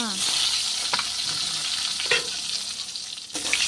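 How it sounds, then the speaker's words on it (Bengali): Eggplant slices (begun bhaja) fry in oil in a pan with a steady close sizzle, broken by a few scraping stirs. "দিদি বেগুন ভাজা করে নিচ্ছি"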